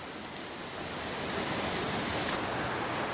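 A waterfall at a secluded hiking spot roars as a dense, unbroken wash of falling water, loud and steady throughout with no voices over it.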